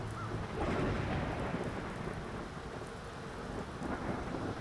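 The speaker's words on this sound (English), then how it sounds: "Quite a storm, eh?" Steady heavy rain pours in The Black Grimoire: Cursebreaker, with low thunder rumbling through the downpour. The storm stays dense and continuous without pause.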